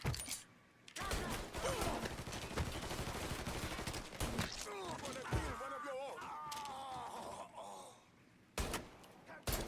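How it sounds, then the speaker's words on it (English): Gunfire from a gun in Mafia III, with dense shots crackling steadily through most of the stretch and a few separate sharp bangs at the start and end; a voice talks over it. "Oh, look at the recoil of the gun."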